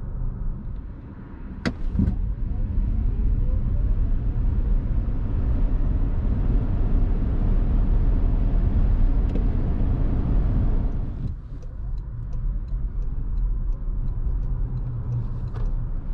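A 2023 Toyota bZ4X AWD electric car, 218 hp Prestige, accelerates hard from 0 to 100 km/h, a steady loud cabin roar of road and wind noise building, then easing after about eleven seconds.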